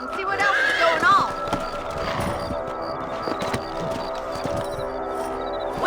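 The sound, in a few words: horses galloping in Red Dead Redemption video game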